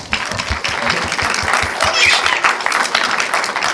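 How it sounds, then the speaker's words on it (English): Applause from the audience at a short-film screening, a lively burst of many hands with a few crisp, close claps in a quick rhythm, sustained loud for several seconds with faint voices mixed in. "So a round of applause to her."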